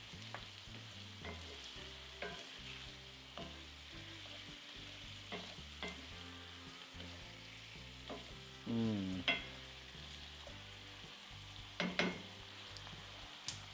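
Beef steak bites sizzle steadily in a garlic butter sauce while being stirred, with repeated scraping and clacking of the utensil over the constant frying hiss, close and moderately quiet.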